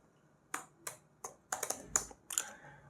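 Several crisp keystrokes on a computer keyboard entering a short terminal command, spaced irregularly then quickening into a brief burst, close and clear over a quiet background.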